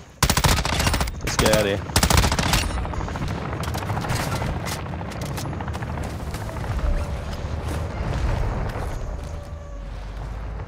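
Gunfire in Call of Duty MW2, a few sharp close bursts at the start giving way to a continuous rumbling, rotor-like drone of battle noise, with a voice speaking briefly.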